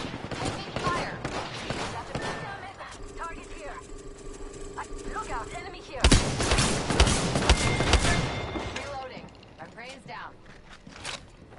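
Video game gunfire crackles in rapid bursts, with a denser, louder volley midway through, mixed with other game sounds while voices talk over the action.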